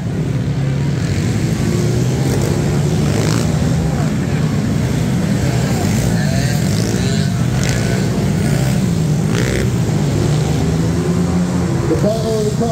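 Mini three-wheeler ATVs with two-stroke engines, including an ATC70 and a Trizinger, race on an indoor motocross track, their engines droning and buzzing continuously and loudly under an announcer's running commentary.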